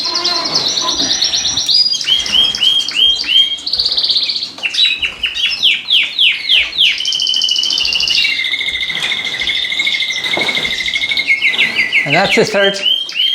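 Cock birds and hens in a breeding bird room chirp and twitter densely and continuously, many overlapping calls close by, with someone speaking briefly over them.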